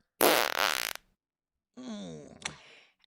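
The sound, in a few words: fart sound effect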